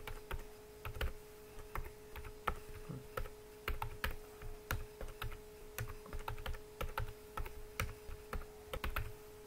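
Steady typing on a computer keyboard while entering data into an Excel spreadsheet, quick irregular key clicks in short bursts over a faint constant hum, with no talking.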